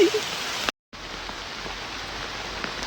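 Steady heavy rain hisses continuously, with a brief dropout of near silence early on before the downpour resumes just as loud.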